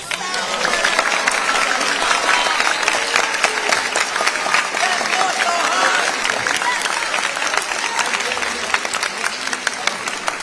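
Audience at a middle and high school band spring concert applauding, a loud, dense, steady round of clapping from a large crowd that carries on for the whole stretch.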